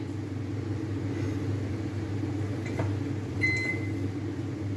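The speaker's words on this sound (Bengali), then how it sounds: "যেহেতু মাইক্রোওয়েভে করব তাই আমি এটা এটাকে আগে আমি প্রিহিট করে নেব" A microwave oven hums steadily while preheating before an eggless plum cake is baked, a constant low drone with a faint click or two near the end.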